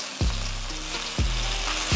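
Kimchi heating in a pan for Korean beef tacos, a steady sizzle with three sharp scraping stirs spaced about a second apart, no talk.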